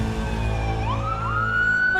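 Ambulance siren wailing, a loud, rising electronic tone that sweeps upward over a steady engine-like hum, close and continuous.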